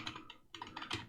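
Quick soft clicks of keys on a computer keyboard as Ctrl+C is pressed, a few light taps close by in a quiet room.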